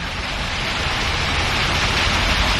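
Steady rain falls outdoors, a loud, dense, continuous hiss of drops on surfaces with no breaks and no voices.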